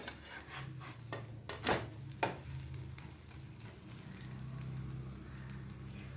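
A breakfast batter roasts in a pan over medium-low heat, browned on both sides. A soft, steady sizzle runs throughout, with a few brief scraping and rubbing sounds near the middle.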